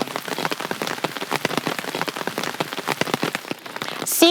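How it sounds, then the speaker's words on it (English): Steady rain pattering densely on surfaces, a continuous close hiss of many drops, loud and alone without voices. "Seeing the rains now, seeing them finally here, having everything wet"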